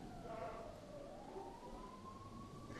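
A siren in the video game Omori, a faint wavering tone that sweeps slowly upward through the clip over a murmuring background.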